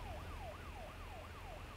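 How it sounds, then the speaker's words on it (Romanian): Emergency vehicle siren, ambulance or fire engine, wails in repeated rising-and-falling sweeps, faint and distant over a low steady rumble of traffic. "se aude salvarea, pompierii"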